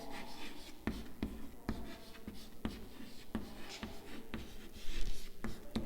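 A pen writes steadily on paper, with quick scratchy strokes and light taps repeating in a busy rhythm, close and clear with no talk over it.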